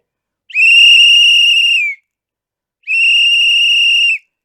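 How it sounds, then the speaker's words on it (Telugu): Two long, shrill single-tone whistle blasts, each about one and a half seconds, separated by a short silence, loud and clear with nothing else around. "విజిల్ మోత మోగింది."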